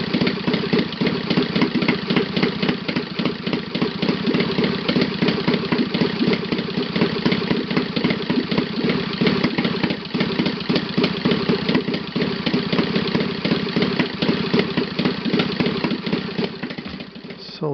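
A Saito FA 270T model four-stroke engine idles on 10% nitro fuel, a continuous close, loud, rapid buzzing putter that holds steady throughout with no voices.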